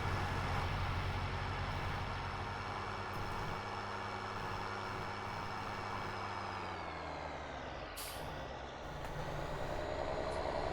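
Road traffic of trucks in Farming Simulator 19, a steady, loud rumbling engine drone with tonal whine that dips and swells as vehicles pass, with a brief hiss near the end.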